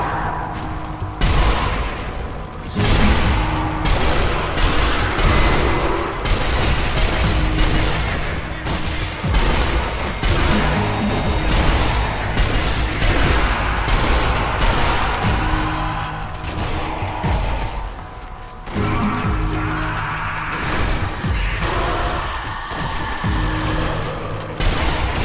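Carbine gunfire in the video game Sniper Elite Nazi Zombies, nearly continuous loud shooting with booming impacts layered over dense game sound throughout, briefly easing before resuming.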